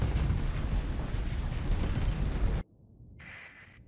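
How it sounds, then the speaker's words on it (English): Cryo artillery and missiles fire in the space combat game Starsector, a heavy rumbling barrage of booms that cuts off abruptly, followed by a faint brief electronic tone. "Shoot that cryo artillery. Shoot those missiles."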